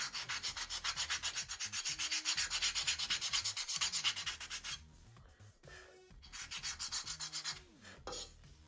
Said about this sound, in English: So we'll sand a little radius in this one.